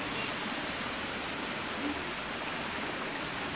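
Evening rain falls in a steady, even hiss, moderately close and unbroken throughout.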